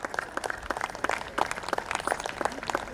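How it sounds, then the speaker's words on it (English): Audience at a school event applauding, a steady patter of many hands clapping at moderate volume. "A huge round of applause for everyone who is working behind the scenes."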